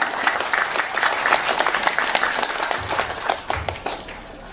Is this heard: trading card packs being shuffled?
no